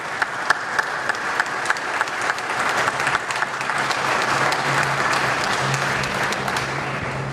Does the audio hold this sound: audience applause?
yes